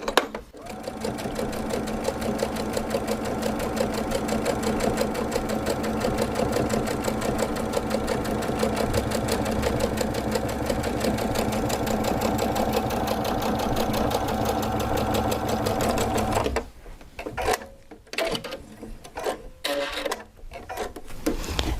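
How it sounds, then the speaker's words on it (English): A sewing machine fitted with a hemmer foot stitches a hem in one long, steady, loud mechanical whir of rapid needle strokes, then stops and gives a few short clattering bursts near the end. "let's just sew my hem"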